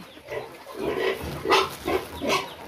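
Pigs on a farm, full-grown hogs grunting and oinking in a series of close, rough snorts spread across a few seconds.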